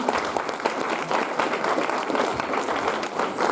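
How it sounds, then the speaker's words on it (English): Dense applause from an audience at an East-meets-West music program, steady and sustained, close and full throughout with no voices. "a big round of applause for my friends"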